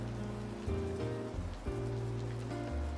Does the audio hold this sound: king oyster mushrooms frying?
no